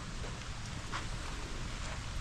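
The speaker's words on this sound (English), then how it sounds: "it is freaking raining out here" Steady rain pours outside onto a residential driveway, a dense continuous hiss with low rumbling, no speech heard.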